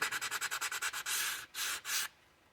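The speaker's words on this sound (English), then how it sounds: "So I'm gonna start with 120 grit" Hand sanding an EAA Windicator .357 Magnum revolver with 120 grit sandpaper, a close run of quick rhythmic rasping strokes followed by three longer sweeping scrubs, with no talking.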